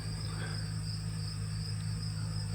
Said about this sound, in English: Holy cow, look at all the bees over there.